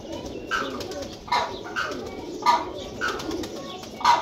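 Kas-type flying pigeon, a prized flier, with several bursts of wing flapping at irregular intervals and faint cooing in between, fairly close and with no voices.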